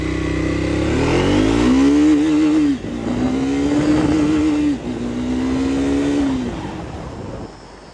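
A Triumph Speed 400 motorcycle engine revved hard three times, each pull rising quickly to a loud, steady buzz at the rev limiter before cutting back, close and dominant with no talking.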